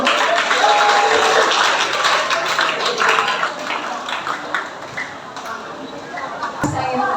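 Students at a junior high school in Gianyar clap together in steady, dense applause that carries loud through most of the stretch, easing slightly toward the end.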